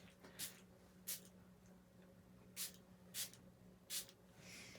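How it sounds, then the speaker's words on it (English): Five quick spritzes from a water spray bottle, each a brief soft hiss, come at uneven intervals over a quiet background hum. "I'm actually going to spray it over that way so I don't get water all over my desk."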